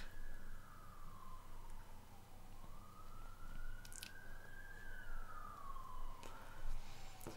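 Emergency vehicle sirens wail outside a window at night, a rising and falling tone sweeping slowly and continuously at moderate distance over a low background rumble.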